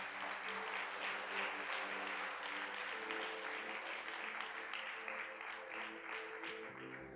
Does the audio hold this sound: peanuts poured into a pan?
no